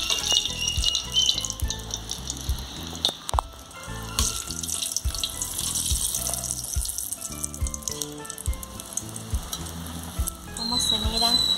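Battered stuffed chiles frying in hot oil, a close, continuous sizzle and crackle with occasional stirring and scraping sounds, no talk.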